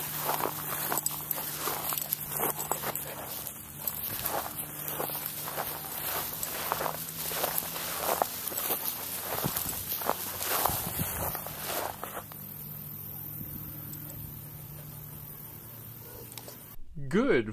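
Footsteps walking through freshly cut grass, a steady rhythm of soft crunching steps for about twelve seconds before they fade into quieter outdoor ambience.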